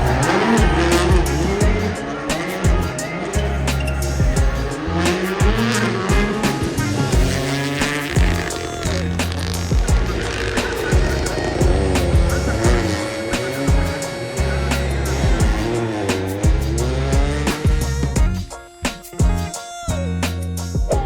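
WRC rally cars racing at night at Rally Japan, engines roaring loudly and continuously as cars pass close by, with revving, gear changes and tire noise, some crowd sound underneath.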